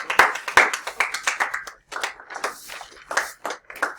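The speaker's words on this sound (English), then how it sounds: "Okay, good clapping, everybody, too." A classroom of students claps in short, uneven bursts, loud and close, with a brief gap before the clapping picks up again and trails off.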